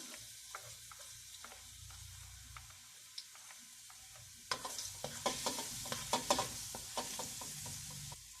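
Garlic frying in fat in a pan for cabbage with chicken, a soft sizzle with scattered crackles and pops that grow busier and sharper midway, with faint stirring.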